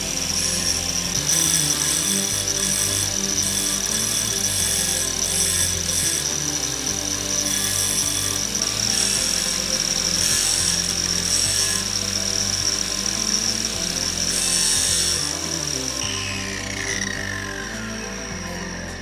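Angle grinder sharpening the tip of a drill bit, a loud sustained high whine with gritty grinding bursts as the metal is pressed against the disc, easing slightly toward the end.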